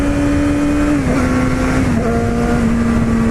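A 2016 Yamaha R6 sport bike revs hard through the gears, its high engine whine steady and loud and dropping in pitch at each of two quick shifts, with no voices.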